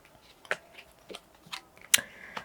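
Tarot cards being shuffled by hand, heard as a series of short, crisp papery snaps and riffles at irregular intervals, fairly close and quiet, with no talking.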